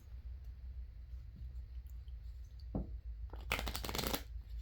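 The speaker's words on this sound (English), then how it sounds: "Shuffle them together." Playing cards are shuffled near the end, a quick riffling burst after a faint tap, over a low background rumble.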